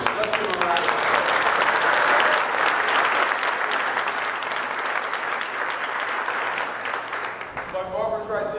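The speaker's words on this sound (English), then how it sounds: "Let's give him a round of applause." Audience applause at a women's empowerment event: sustained, dense clapping from a large crowd lasting around seven seconds before tapering, with speech resuming at the end.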